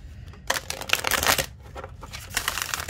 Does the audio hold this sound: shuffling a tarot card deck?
yes